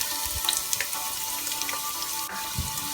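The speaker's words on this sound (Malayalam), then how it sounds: "ഇനി നമ്മൾക്ക് സവാള അരിഞ്ഞത് ഇട്ട് കൊടുക്കാം." Chopped onion sizzles in a hot pan while chicken fried rice is being made, giving a steady close frying hiss with a few light clicks and taps from stirring.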